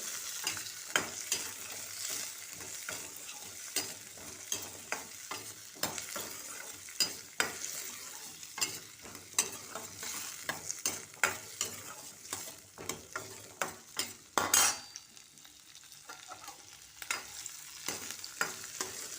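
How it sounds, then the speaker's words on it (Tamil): Garlic sautéing in a pan for a stingray fish curry (thirukkai meen kuzhambu), with steady close sizzling and frequent scraping stirs throughout, briefly louder near the end, with no talking. "பூண்டு நல்லா வதக்கிட்டு"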